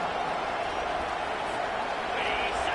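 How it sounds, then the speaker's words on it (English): A stadium crowd at a football game roars in a dense, continuous wash of cheering and noise, loud and steady throughout, with a commentator's voice over it. "Listen to this crowd"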